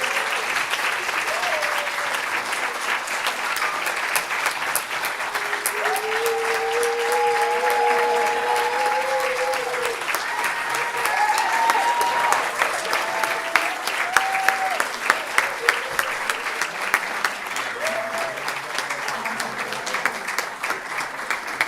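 A sustained round of applause from an audience honoring presenters at a university postdoc slam, dense steady clapping filling the hall for over twenty seconds, with a few scattered voices and cheers rising over it.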